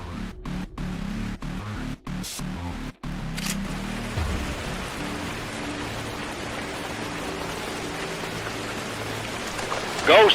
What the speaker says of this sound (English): I think the rain should cover our advance.